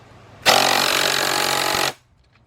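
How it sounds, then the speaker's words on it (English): An impact driver with an 18 mm swivel socket on a 2-foot extension runs on bolts of a 2005 Cadillac CTS 3.6 during oil pan work, giving one loud, steady buzzing hammer burst of about a second and a half, close and alone. "My impact driver."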